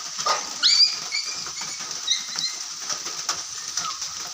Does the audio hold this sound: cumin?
no